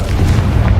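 A Confringo blasting spell explodes in Hogwarts Legacy, a loud, brief, low boom with rumbling body lasting under a second.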